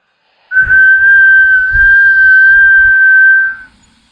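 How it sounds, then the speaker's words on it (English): A single long, steady whistle from deep in a forest holds one high pitch for about three seconds, loud and clear, with faint low rumbling beneath it. "Then it came, a slow, chilling whistle from the depths of the forest."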